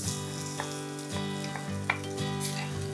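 Garlic sizzles and fries steadily in a pan for an oil-free okra fry, a continuous close crackle with a few soft stirring scrapes, no talking.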